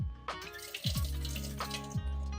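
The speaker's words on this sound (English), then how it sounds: "Now we're going to go ahead and drain the cashews" Water running and splashing in a kitchen sink as rinsed, soaked cashews are drained, with a continuous trickling flow and a few irregular gurgles and drips, fairly quiet.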